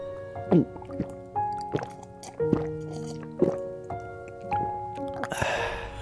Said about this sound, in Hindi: अरमान की आवाज सुनकर बुजुर्ग उसे पानी देता है।